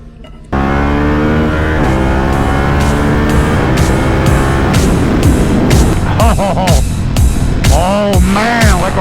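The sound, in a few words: Harley-Davidson Pan America 1250 ST motorcycle exhaust accelerating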